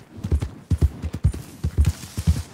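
Horse hooves galloping in Red Dead Redemption 2, a loud, close, rapid clip-clop rhythm in steady triplet beats with no talking.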